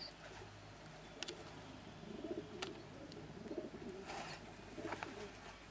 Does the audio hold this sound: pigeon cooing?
yes